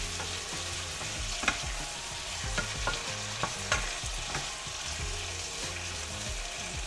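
Cucumber cooks in a butter garlic sauce in a pan, a soft steady sizzle at moderate level with occasional clicks of a stirring utensil, no talking.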